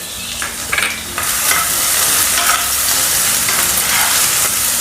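A paste of garlic, coriander and ginger hits hot tempering oil for a bitter gourd dish and erupts into a loud, steady sizzle that holds to the end, with light stirring noises on top.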